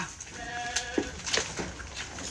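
A goat bleats briefly at moderate distance, its thin, wavering call rising over a faint, steady outdoor background.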